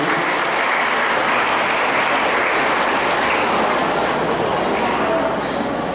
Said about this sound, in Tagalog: Palakpak po natin muli ang ating mga himayin.